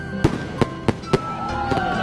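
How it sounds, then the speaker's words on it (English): Fireworks burst overhead at a night festival in Guizhou, China, with four sharp, evenly spaced bangs over a steady outdoor background, followed by fainter crackling as the display continues. "enjoyed the fireworks in the sky"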